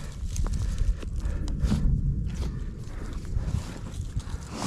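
A mare named Hotlips walks under a rider, her hoof steps a steady, muffled clopping against constant close rustle and outdoor noise, with no voices.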